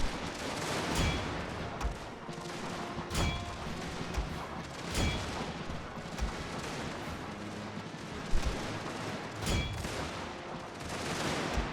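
Infantry lines in a war video game fire repeated volleys, heard as a dense, crackling musket-style fusillade with heavier booms at irregular intervals. The firing is moderately loud and fills the scene without speech.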